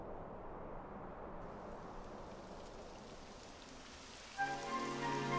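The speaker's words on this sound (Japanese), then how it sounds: "やだ、雨が降ってきたわ。" Rain falling in a Dragon Quest XI S cutscene, a steady soft hiss of drops on surfaces throughout, with a faint tonal sound entering near the end, and no voices.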